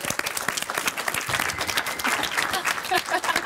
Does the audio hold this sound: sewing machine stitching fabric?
no